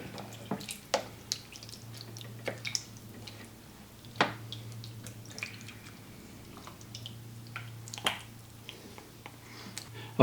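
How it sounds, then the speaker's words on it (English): Beef stew gets stirred in a crock pot: soft wet squelches and thick liquid slaps come in irregular strokes, close and quiet, with occasional sharper clicks of the spoon against the pot. "For right now, I'm going to stir this up real good."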